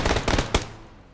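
A UAZ vehicle explodes in PUBG during a competitive esports match, a fast crackling burst of blasts followed by one louder boom that fades into a quiet tail.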